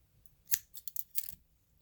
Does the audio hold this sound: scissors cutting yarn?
yes